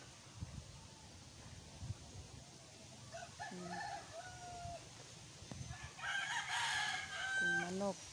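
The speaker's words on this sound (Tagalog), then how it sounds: "mga manok pansabong" Fighting roosters crow outdoors among trees, several drawn-out calls at moderate distance, one after another, with a louder crow near the end over faint background noise.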